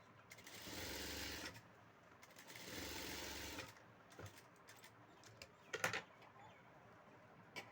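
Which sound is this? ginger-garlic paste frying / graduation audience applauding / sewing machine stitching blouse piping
sewing machine stitching blouse piping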